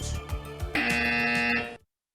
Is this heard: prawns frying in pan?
no